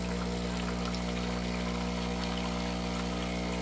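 Water running steadily from the outlet of a Breville Barista Express espresso machine, a constant close pour with a steady mechanical hum beneath it, no pauses.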